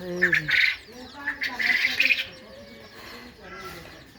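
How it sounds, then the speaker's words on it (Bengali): Pigeons in a pigeon box at a village home, giving short squawks, chirps and a few coos in bursts, close by, with some human voice mixed in. "এখন দেখাইতেছি কবুতরের বক্স"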